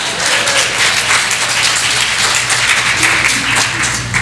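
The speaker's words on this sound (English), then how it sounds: "you can clap for that" Church congregation applause during a sermon, a loud, sustained wash of many hands clapping steadily with a low hum beneath and a few faint voices mixed in.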